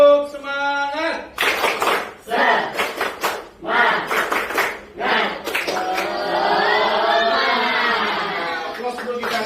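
A group claps the 'tepuk semangat' spirit cheer in bursts of rhythmic clapping, with shouted chants mixed in, loud and close.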